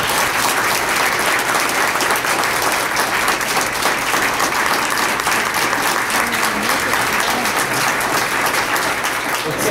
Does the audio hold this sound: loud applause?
yes